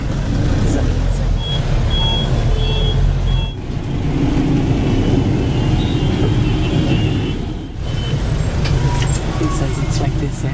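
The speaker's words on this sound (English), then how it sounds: "The motorcycles are waiting between traffic." Busy street traffic in Jaipur, with motorcycles waiting between cars, buses and trucks, forms a loud, steady roar of engines, interspersed with high beeps and horn tones and brief dips in the din.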